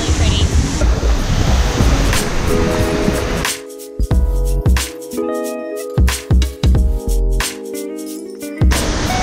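Waikamoi Stream waterfall on the Road to Hana, Maui, roars as a loud, steady rush of falling water for the first few seconds, then drops back behind intermittent nearer sounds.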